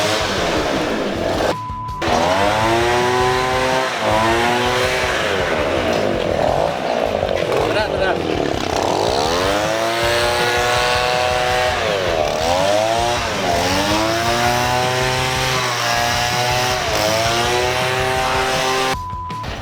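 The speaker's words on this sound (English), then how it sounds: "We will start the motorbike." A motorbike engine starts and revs repeatedly, its loud buzzing whine rising and falling through many throttle blips over about twenty seconds, with a brief cut-off near the start and end.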